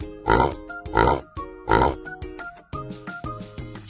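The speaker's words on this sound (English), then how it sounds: "Pig." A pig oinks in a series of short, loud grunting bursts, three strong ones at steady intervals followed by softer snorts, with no other sound around them.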